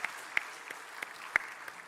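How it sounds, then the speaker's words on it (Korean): A congregation claps during a Sunday worship service in a Korean church. The applause is soft and steady, with a few sharper individual claps standing out. "하나님께 영광의 박수 올려드립니다"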